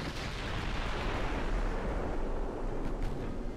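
Torpedo launch aboard a warship in the naval battle game Ultimate Admiral Dreadnoughts: a steady, dense roaring rumble like a sustained blast, loud and continuous throughout, with no voices.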